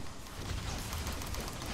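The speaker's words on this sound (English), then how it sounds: "Someone's shooting at me." Rapid bursts of gunfire in the Harry Potter Deathly Hallows Part 1 video game, a dense, continuous fusillade crackling throughout at moderate level, with no talking.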